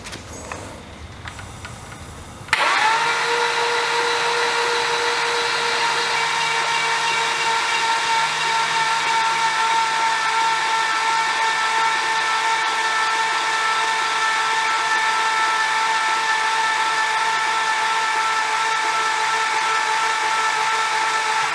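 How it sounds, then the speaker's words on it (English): A 355 stroker V8 engine from a one-tonner build cranked over to build oil pressure, with an air hose in use; after a short pause a loud steady whirring drone starts and holds unchanged for about twenty seconds. "I'll crank this thing over while putting the air hose down there"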